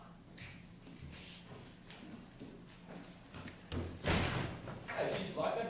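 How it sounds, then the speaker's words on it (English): A courtroom jury-room door thuds shut and clicks locked, with a few knocks and bumps around it, heard close and partly under people talking. "she just locked that door?"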